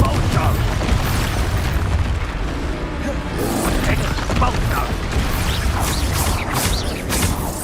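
Confringo blasting spells burst repeatedly in Hogwarts Legacy, a series of booming explosive impacts layered over dense game combat noise and mechanical clatter, loud and continuous, with a voice speaking over the action.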